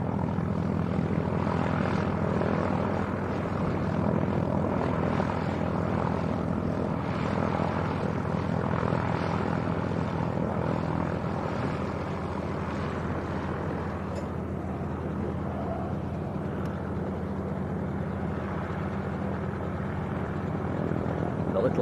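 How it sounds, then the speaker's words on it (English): Robinson R44 helicopter starting up at Leeds East Airport, a steady low engine drone and whine from some distance, continuous and fairly faint, with talk over parts of it. "The little helicopter that's hiding behind the fuel tanks just starting up as well."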